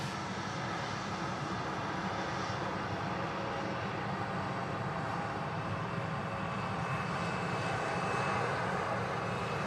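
A Jet2 Boeing 737 arrives at Manchester Airport with a steady, broad engine roar that stays loud and continuous throughout, swelling slightly toward the end, and no talking over it.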